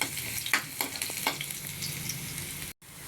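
Garlic and ginger sizzle in a hot pan while being stirred with a utensil for odong with ligo, a Filipino home dish of noodles and sardines, with a steady close frying hiss and a few scraping stirs.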